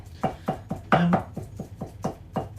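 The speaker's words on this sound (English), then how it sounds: "I'm just going to carry on chopping up these fillets, chucking them in the bowl" A knife chops raw chicken fillets for gyoza on a board in brisk, evenly spaced strikes, about four per second, close and crisp, with one heavier knock partway through.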